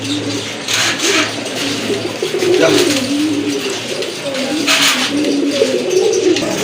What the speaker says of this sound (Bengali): মাশাআল্লাহ খুবই সুন্দর একটা কবুতর, দেখার মতো কিন্তু